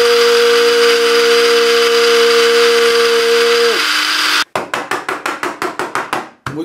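An electric press squeezing ginger runs with a steady, loud motor whine for a few seconds, then cuts to a series of about ten evenly spaced pulsing thumps.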